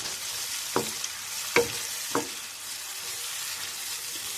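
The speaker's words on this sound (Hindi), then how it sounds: "इसलिए मैं इसमें थोड़ा सा और पानी डालकर इसको मज़ीद 5 मिनट के लिए भून लूँगी" Masala sizzling steadily in a pan with a bit of water added, a continuous hiss broken by three sharp stirring scrapes early on, close and moderately loud, no voices.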